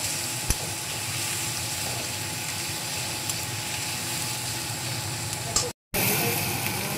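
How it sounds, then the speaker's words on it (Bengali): Frying in a pan for an egg curry before tomato goes in, a steady close hiss and crackle with a couple of faint clicks, briefly cutting out near the end. "এটা ভালো করে ভেজে নিই, তারপরে টমেটোটা দেবো"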